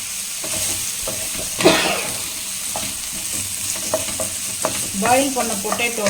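Boiled potatoes stirred and frying in a pan for a potato masala made with curry leaf powder, with scraping spatula strokes over a steady sizzle, close and moderately loud, no talk.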